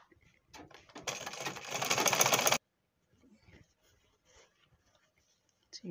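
Sewing machine stitching fabric for an abaya gown, a domestic machine rather than an industrial one, running in one steady burst of about a second and a half, then stopping, with a voice talking faintly around it.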